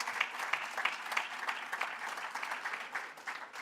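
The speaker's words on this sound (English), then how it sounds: "Please clap it up for Mr. Lilo." Faint, distant applause from a crowd at a school sports awards ceremony, steady scattered clapping with a few sharper claps standing out.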